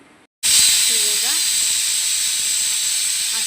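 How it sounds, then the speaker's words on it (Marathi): A pressure cooker whistle hisses continuously and loudly while rajma cooks, a steady high steam shriek that starts abruptly and holds throughout, with faint kitchen sounds beneath. "आता आपण याला कुकर लावून चार ते पाच शिट्ट्या काढून"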